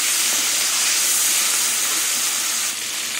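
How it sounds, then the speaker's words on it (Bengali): Prawns coated in salt and turmeric fry lightly in hot oil, giving a steady, loud, continuous sizzling hiss close by with no break and no voices. "এবার চিংড়ি মাছটা বেশি কড়া করে ভাজবো না।"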